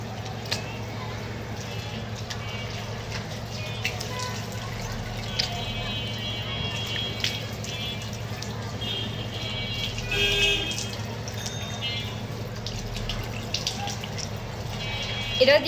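Someone washing their face with water: faint splashing, dripping and running tap water under a steady background hum, with a voice talking quietly at times.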